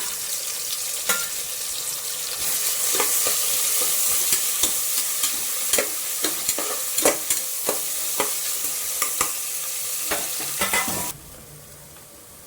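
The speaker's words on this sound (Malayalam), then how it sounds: "കുക്കറിൽ ഇതാ എണ്ണ ഒഴിച്ചിട്ട് ഇനി അടുത്തത് നെയ്യും സവോളയും ആദ്യം വഴറ്റിയെടുക്കാം." Onions sauté in ghee and oil inside a pressure cooker, a bright steady sizzle with repeated spatula scrapes and taps at irregular intervals, the frying sound dropping sharply near the end.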